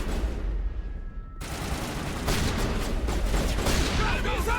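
Sustained gunfire erupts in Mass Effect combat on Virmire, dense rapid shots filling the mix after a brief quieter lead-in, with voices calling out beneath the barrage.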